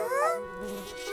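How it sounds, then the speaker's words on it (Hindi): A cartoon mosquito buzzes close and continuously, a thin whining drone that rises and falls in pitch for about a second. "मच्छर"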